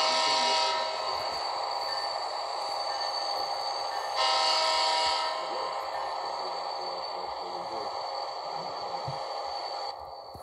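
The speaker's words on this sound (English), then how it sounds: "This actually is an old Alco type locomotive." An old Alco-type model train locomotive on a Legacy layout runs with a steady mechanical rumble and electronic whine, while horn-like blasts sound twice early on and the motion continues close by without speech.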